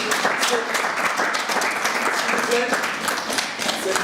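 An audience at a charity evening in Brussels claps continuously, a full, even burst of applause with voices faintly audible beneath it.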